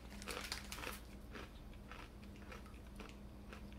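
Close, crisp crunching bites and chewing of an unsweet crunchy cookie in quick irregular bursts, loudest at first and then quieter, with no talking.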